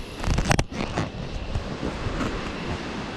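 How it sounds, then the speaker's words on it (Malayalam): The Panniyar river rushes past in a broad, continuous wash of flowing water, heard close and fairly loud, with some wind buffeting and a few louder gusts early on. "നമ്മുടെ പന്നിയാർ പുഴ, കഴിഞ്ഞ പ്രാവശ്യം കാണിച്ച പന്നിയാർ പുഴ ഇതേ ഒഴുകി പോകുന്നു"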